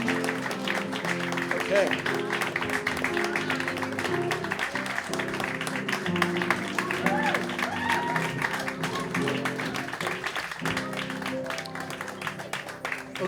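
Steady applause from a large audience fills the whole stretch, with a brief spoken word partway through.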